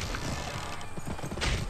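Horse hooves clip-clopping at a gallop in the Western video game Gun, a steady drumming rhythm close by with a faint whinny, mostly alone without talk.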